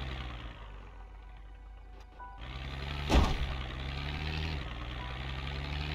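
A vehicle engine drones steadily while driving in Project Zomboid, a low rumble that shifts pitch partway through, with a short sharp knock near the middle.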